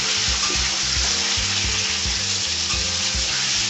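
Taro roots fry in a pan with a steady, loud sizzle, while rhythmic scraping knocks from stirring repeat at a quick, even pace close to the microphone.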